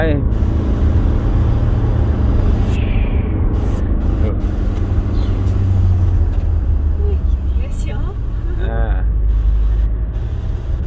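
Car engine straining and accelerating up a steep mountain road near the Myanmar border, a loud steady low drone throughout with people talking over it.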